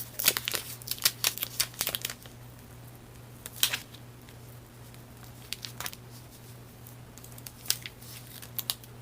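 Paper being folded by hand to make an envelope, with crisp crinkles and taps near the start, then sparser rustles over a low steady hum.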